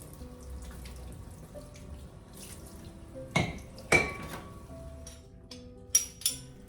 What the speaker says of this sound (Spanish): Me gusta ir lavando los platos apenas termino de cocinar, antes de sentarme a comer.